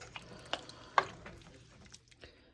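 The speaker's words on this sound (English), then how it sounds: "I'm going to get all those onions and garlic and stuff off the bottom, get everything stirred" A spoon stirring onions and garlic off the bottom of a pot of potato soup, giving a few soft scraping knocks and clinks over a faint simmer, quiet and close, with no talking.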